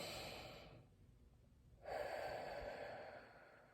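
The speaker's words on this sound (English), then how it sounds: "Let's take a couple deep breaths." Slow deep breathing: a soft nasal inhale, a pause, then a louder, longer breath out through the mouth, close and without talk.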